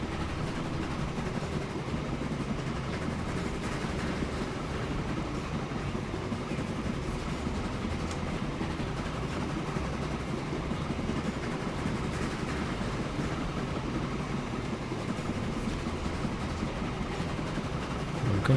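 A locomotive in the Transport Fever game runs steadily along a long track, making a continuous low rumble with faint rail clatter. The sound stays at an even, moderate level throughout.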